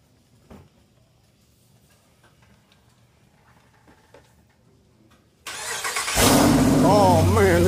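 A Jeep Wrangler 392 Hemi Rubicon in a showroom sits quiet with faint clicks, then the V8 cranks and fires up cold, jumping to a loud, deep, steady idle roar close by.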